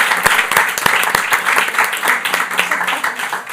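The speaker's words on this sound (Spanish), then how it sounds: "creo que se merece un aplauso, María" At a press breakfast for the Day of Homeless People, a small audience claps for a woman named María, with distinct, fairly close individual claps blending into a steady round of applause.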